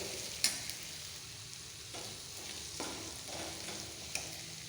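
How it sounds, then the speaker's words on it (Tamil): Oil sizzles softly in a pan as spices such as red chili powder, coriander powder and rock salt are sautéed for a Tamil chicken kulambu, with a steady low frying hiss and a few faint stirring clicks. "எண்ணெயில் லேசாக வதங்கினதும்"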